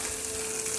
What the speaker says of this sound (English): I'm actually going to back up while this sizzles just because it's kind of loud